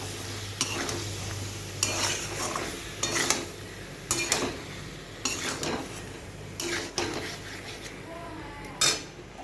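A spoon stirs mango sukto with coarsely ground mustard in a pot, giving repeated scraping and clinking strokes against the metal with a faint sizzle underneath, fairly close and steady.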